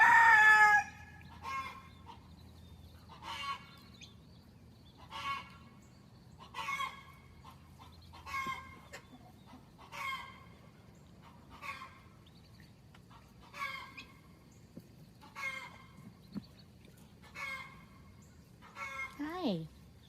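Chickens in a winter coop cluck and call in a steady series of short, regular outbursts about every second or so, fairly near, over a low background hum.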